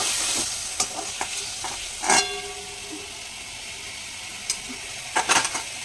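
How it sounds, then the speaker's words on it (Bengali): Prawns fry lightly in hot oil in a wok (kadai), giving a steady sizzling hiss throughout, broken by a few sharp clinks and scrapes of a spatula against the pan. "তো চিংড়ি মাছটা মোটামুটি হালকা ভেজে নিয়েছি, এবার চিংড়ি মাছগুলো তুলে নেবো।"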